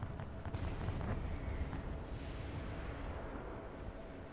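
Mortar teams firing in Guild Wars 2, a steady rumbling barrage of muffled booms and thuds, fairly quiet and continuous with a few sharper blasts near the start.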